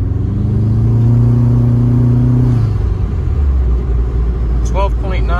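A turbocharged car engine accelerates under boost during an internal wastegate test, a loud, close rising roar that drops off after a few seconds into a rumbling cruise, with a brief high whistle near the end.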